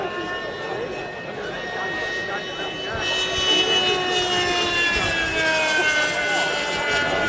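Retro canard-style RC model jet, nicknamed The Duck, with a methanol-fuelled engine in flight, giving a loud, steady turbine-like whine with rising and falling tones as it passes, growing louder midway, with crowd chatter faintly beneath.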